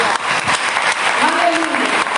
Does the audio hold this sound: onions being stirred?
no